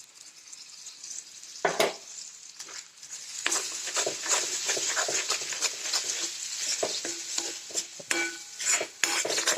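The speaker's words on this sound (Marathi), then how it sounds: "मसाले चांगले भाजायचे एक मिनिटभर म्हणजे टेस्ट चांगली येते त्याची" Ground spices roasting and being stirred into an oil-releasing gravy for a fresh pigeon pea amti: a steady close sizzle broken by frequent sharp spoon scrapes and clinks against the pan, with no talking.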